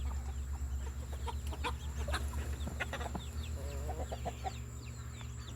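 Young chickens being raised as laying hens, a flock clucking and peeping continuously in short overlapping calls, near and busy over a steady low hum.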